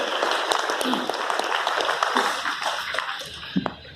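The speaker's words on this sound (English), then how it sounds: "So can we have a round of applause for all of them?" Audience applause at a rural IT quiz event, steady dense clapping from a crowd of many hands filling the room, holding at a fairly constant level before thinning slightly toward the end.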